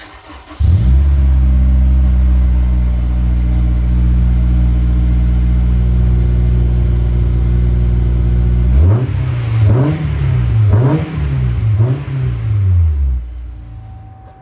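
A Honda S2000 engine fires up and idles with a deep, steady rumble, then revs several times in quick bursts through a throaty custom exhaust.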